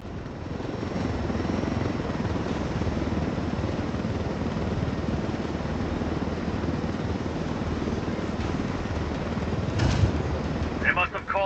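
Military helicopter in Ghost Recon Wildlands flying steadily throughout, a continuous loud rotor and engine drone with a brief surge near the end.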